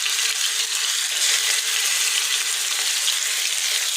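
Chicken tikka pieces fry in about two spoons of hot oil in a pan on a stove, a steady, loud, close sizzle hissing without pause and with no voices.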